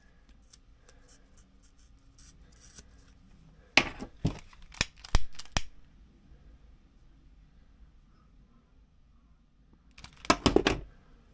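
String on a model boat being cut, heard as a few close, sharp snips in a quick cluster, then quiet, then another short burst of snipping.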